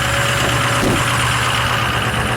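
A 6.0 engine runs at a high idle, a loud, close, steady drone with a low rumble that stays even throughout, with no talking.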